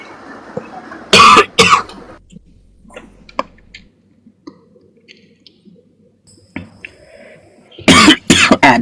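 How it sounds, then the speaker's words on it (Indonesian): Two bursts of harsh, close coughing, a couple of hacks each, come from one person. Quiet clicks and small mouth noises fill the gap between them. "batuk-batuk teman-teman"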